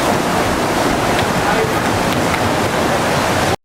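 Loud, steady roar of surging tsunami water from the 2004 Indian Ocean disaster, a dense continuous rush of crashing waves and wind that holds at full strength before cutting off abruptly.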